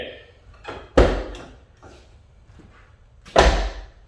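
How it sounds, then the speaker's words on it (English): A Toyota Tacoma SR5 door with new weather stripping is pushed shut twice, each time a loud, solid thump, with quieter handling rustles and brief talk between the two closes. "I have to hold it when I close this door"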